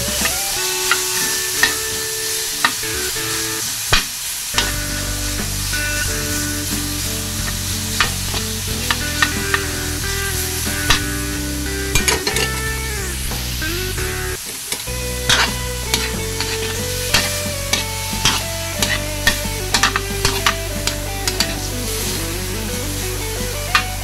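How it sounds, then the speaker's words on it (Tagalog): Pork sizzles loudly as it is sautéed in oil for ginataang langka, a continuous bright frying hiss with frequent stirring clatters and a few short dips, alone with no talk. "Gisa-gisa natin tong sahog natin sa langka na pork"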